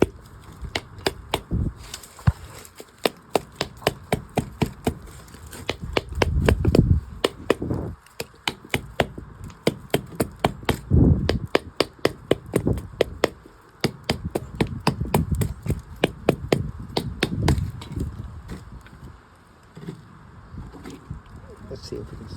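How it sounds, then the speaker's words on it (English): BMW E36 limited-slip differential clutch pack parts are tapped evenly into place with a hammer, a long series of sharp metallic taps at a steady, quick rhythm, close and fairly loud, with brief pauses between runs. "just start tapping it around evenly"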